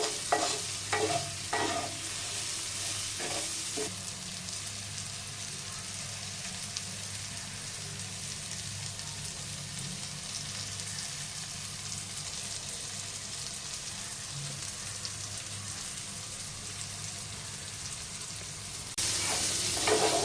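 Green peas and chillies fry in a pan over medium gas, a steady close sizzle lasting throughout, with a few scraping stirs at the start and again near the end.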